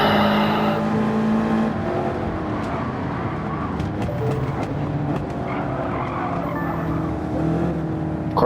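Race cars in Gran Turismo 7 roar through the opening corners of a Grand Prix, with engines revving and changing pitch, tires skidding and squealing, and rivals overtaking up close, loud and continuous without talk.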